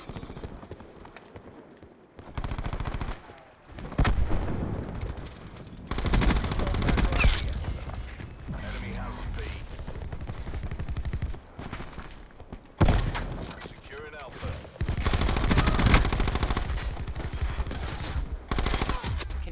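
Call of Duty Black Ops 4 weapons pour out long, dense bursts of rapid automatic fire, broken by short pauses, with a voice talking faintly at times.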